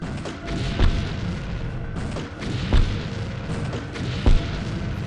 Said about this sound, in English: Let's try and put some rounds to the side. See if we can get the explosion to kill them.